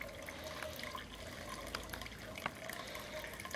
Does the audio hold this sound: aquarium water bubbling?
yes